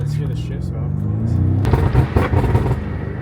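A BMW F90 M5 with a new exhaust and its valves closed revs under people talking, rising from a steady idle into louder, rougher bursts near the end.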